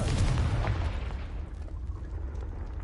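A Confringo spell explosion in the Hogwarts Legacy video game, heard as a single deep, loud boom at the start that rumbles and fades over the next couple of seconds.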